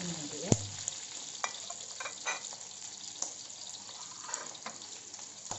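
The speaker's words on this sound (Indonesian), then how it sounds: "kita tumis dulu cabai yang kita untuk tom yum tadi" Chili sizzles and fries in a pan at low volume, with occasional scraping and stirring knocks.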